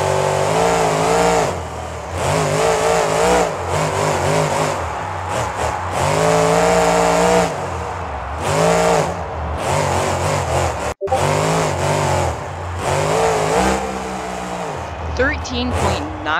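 A monster truck launches in an arena time trial at a Monster Jam event, its engine roaring loud and close and climbing in pitch as it accelerates, with brief dips between hard surges and crowd and voice noise mixed in.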